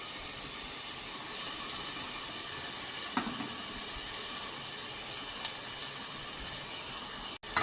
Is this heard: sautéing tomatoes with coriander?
yes